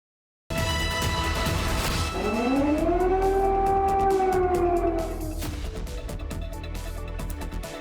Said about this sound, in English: the sound of sirens, a chilling wake-up call in Ukraine